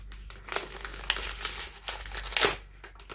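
Wrapping paper on an advent calendar package crinkles and tears up close in short irregular bursts, loudest with a sharp rip near the end.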